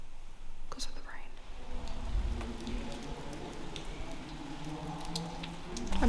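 Steady rain patters outside a chapel in Bavaria, a broad continuous wash with a brief whisper-like voice near the start and denser drops building toward the end.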